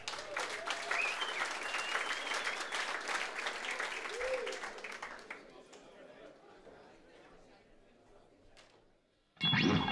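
Audience applause in a club before a blues guitar concert, sustained clapping with cheers and chatter that gradually dies down, then a sudden loud burst of sound at the very end.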